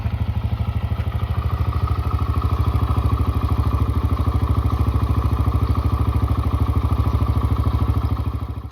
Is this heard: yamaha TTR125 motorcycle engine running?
yes